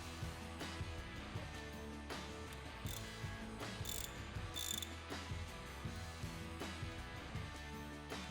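Bolts on the cover plate of a Wedgelock C6 quick coupler cylinder mount are tightened with a ratchet, giving rapid repeated clicking strokes close by and faint in a quiet workshop.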